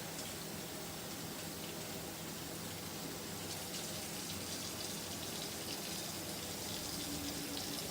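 Steady water pouring through cooked penne pasta held in a kitchen strainer, a continuous even hiss and splatter filling the whole stretch at a constant level with no talk.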